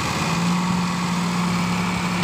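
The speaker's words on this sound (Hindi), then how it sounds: "तीनों ट्रैक्टर जोर लगा रहे हैं एक साथ, फिर भी टिप्पर नहीं निकल रहा।" Sonalika tractor engines strain together to pull a fertilizer-loaded tipper stuck in place, a loud, steady droning roar with a sustained hum and no letup.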